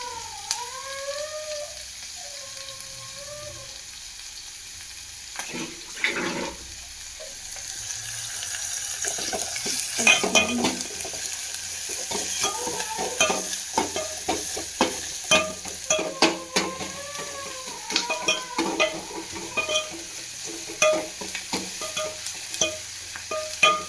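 Ginger and garlic fry in a pan, a steady close sizzle with stirring scrapes and clinks, joined partway through by a quieter watery hiss, with no voices.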